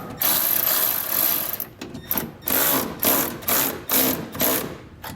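A ratcheting tool tightens bolts while installing Firestone Ride-Rite air helper springs on a 2022 Chevrolet, loud close bursts of rapid clicking repeated in short runs with brief pauses between pulls.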